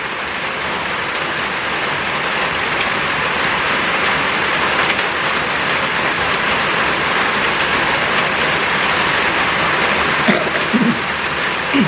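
Heavy rain pours steadily during a blackout, a constant loud hiss of downpour with a few faint knocks near the end and no talk.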